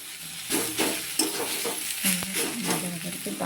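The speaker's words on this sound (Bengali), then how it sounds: "টমেটোগুলো মিলেও গেছে, একদম ভাজা ভাজা হয়ে গেছে" Softened tomatoes frying in a pan for pasta, a steady close sizzle broken by repeated rhythmic stirring scrapes and a sharp metallic tap of the spoon against the pan.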